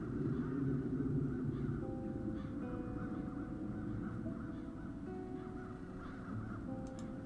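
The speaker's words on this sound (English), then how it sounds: "Those crows stem from the nether hells." Crows cawing in the fantasy adventure game Chains of Satinav, harsh calls repeating over a steady, dense ambient bed of game music and background noise.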